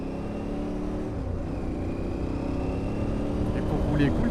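An Aprilia Tuareg 660 mid-size trail motorcycle cruises at an easy pace, its steady engine hum and wind noise close and even, with a rider's voice talking over it.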